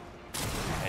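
A gunshot rings out during a firefight in The Darkness II, a sudden loud crack about a third of a second in, followed by a sustained burst of gunfire noise.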